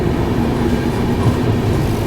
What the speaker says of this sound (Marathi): आता जस्ट थोड्याच वेळात ट्रेन निघणार आहे.